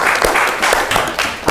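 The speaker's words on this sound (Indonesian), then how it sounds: "tepuk tangan, benar sekali" Students in a classroom lesson clap after a correct answer, giving a short, dense burst of close, loud applause that fills the brief moment.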